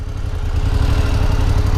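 A BMW F850GS motorcycle engine idles steadily up close, a deep throbbing rumble that holds an even level without revving.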